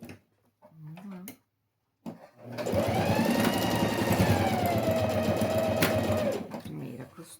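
A sewing machine stitches a homemade school pencil case in one sustained burst of rapid whirring, close and loud, after a short spoken remark and a pause.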